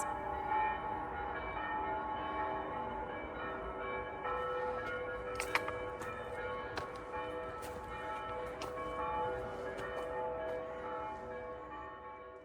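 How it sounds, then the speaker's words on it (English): Serbian Orthodox monastery bells ring in the Ovčar-Kablar gorge, steadily, with a sustained, layered metallic tone that carries across the whole stretch, moderately distant and even in loudness. "you will also hear some church bells"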